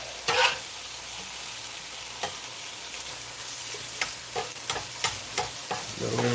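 Thin-sliced steak for a cheesesteak fries in a pan, a constant soft sizzle punctuated by sharp clacks and scrapes of a spatula, several in quick succession near the end.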